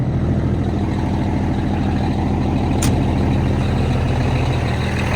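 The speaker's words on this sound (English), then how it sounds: "any guesses based on the clatter? Oh, another Cummins. Oh, that's a really loud Cummins." A loud Cummins diesel truck engine with a straight pipe clatters steadily up close, a dense rhythmic knocking over a deep rumble, with one brief sharp click midway and no talking.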